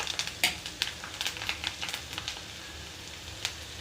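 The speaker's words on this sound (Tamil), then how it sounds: "எண்ணெய் வந்து கொதிக்க ஆரம்பிச்சிருச்சு." Oil for homemade herbal hair oil sizzling and crackling in a pan, with scattered bright pops over a steady low hiss, close and fairly quiet.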